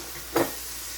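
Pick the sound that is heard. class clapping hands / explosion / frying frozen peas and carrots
frying frozen peas and carrots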